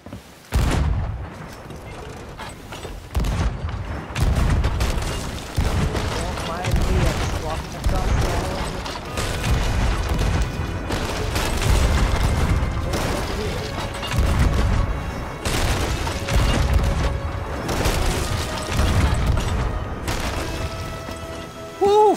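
Ship cannon volley in a naval battle video game, repeated deep booming shots in irregular bursts across the stretch, loud and close, with players talking throughout.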